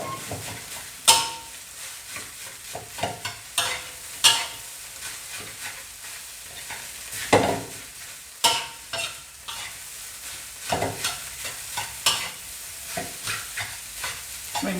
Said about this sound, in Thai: ทำข้าวผัด ฮอตดอกใส่ไข่นะครับ